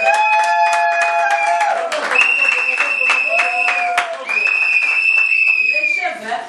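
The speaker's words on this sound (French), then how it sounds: "On applaudit très fort pour cet article." A crowd applauds loudly and continuously, dense clapping mixed with high sustained cheers or ululating voices that rise and fall, filling several seconds before tapering off near the end.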